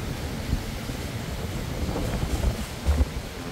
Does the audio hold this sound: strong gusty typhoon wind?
yes